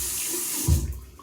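Tap water running to wet a hairbrush in a sink: a steady close rush of flowing water, with a brief splashy burst as the brush goes under the stream.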